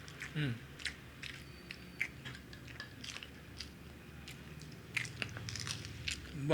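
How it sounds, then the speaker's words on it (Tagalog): Crispy pork belly being eaten at a Filipino mukbang, quiet crunchy bites and chewing close to the mic with soft mouth sounds and brief murmurs between them. "Bawat kagat malutong."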